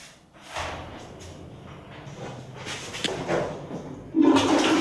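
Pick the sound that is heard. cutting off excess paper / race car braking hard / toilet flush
toilet flush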